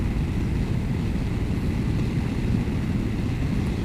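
A Yamaha FJR 1300 motorcycle cruises at about 72 mph and just under 3,500 rpm, giving a steady, dense low rumble mixed with wind roar that continues unbroken from start to finish.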